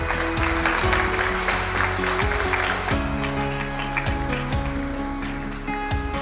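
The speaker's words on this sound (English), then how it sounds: "Please give them all a good round of applause." Audience at a school debate competition applauding the participants, a continuous dense patter of clapping over a steady low hum and tonal background, with faint voices mixed in.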